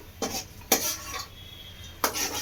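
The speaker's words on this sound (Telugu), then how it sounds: "అలా ఆయిల్లో కలుపుకోవాలి, అంటే కింద బాండీలకి అడుగు అంటకుండా." A spoon stirs food through oil in a kadai, making three scraping strokes against the pan over a soft background hiss, with no talking.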